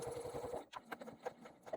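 A sewing machine stitches the straight vertical side seam of a fully lined boxy bag, starting with a steady rapid whir and then shifting to irregular mechanical clicks and taps.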